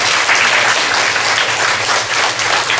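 Congregation at a church service breaks into loud, dense applause that fills the whole stretch without a pause, a steady wash of many hands clapping together.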